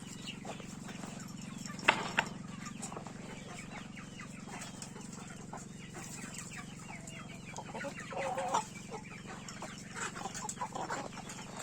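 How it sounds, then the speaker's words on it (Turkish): Several chickens and a rooster cluck and chatter at close range, with a couple of sharper squawks early on and a continuous low background hum. "Bak benim benim horoz burada"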